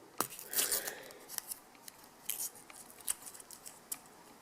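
Paper is torn into small pieces during a magic trick, giving faint, close, irregular ripping and crinkling in short bursts, with no talk.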